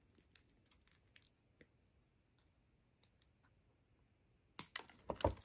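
A thread tail snipped with scissors while finishing a beaded necklace: a few sharp, close cuts arrive near the end after several soft, scattered clicks and handling noises.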